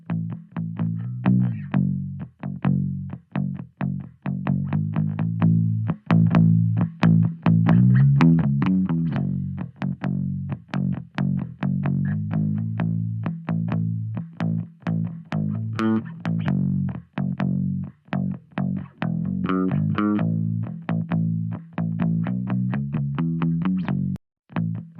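Directly injected bass guitar with compression applied, plucked notes and phrases playing continuously at a steady, controlled level with sharp attacks and short gaps, no voices.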